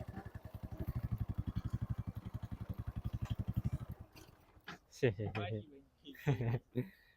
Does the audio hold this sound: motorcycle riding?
yes